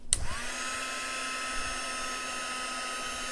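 An electric heat tool runs with a steady, fairly quiet whirring hum after switching on, blowing hot air onto an embossed card, continuous and alone.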